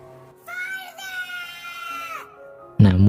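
A mother sheep bleats after her lamb is taken away in a film. One long, wavering, high bleat is followed by a voice that starts speaking loudly at the end.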